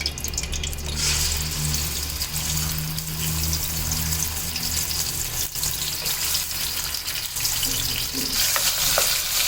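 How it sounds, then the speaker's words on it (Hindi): Raw chicken pieces frying in hot oil for Afghani chicken karahi, a steady, loud sizzle that holds all the way through with no talking. "ये देखें ऑयल थोड़ा सा गर्म हो गया, अब चिकन डाल देंगे इसमें।"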